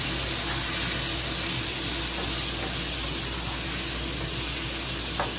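Potatoes hit hot oil in a frying pan while cooking a Nepali gundruk and potato dish, giving a steady, fairly loud hissing sizzle that holds evenly throughout with a few faint clicks and no talking.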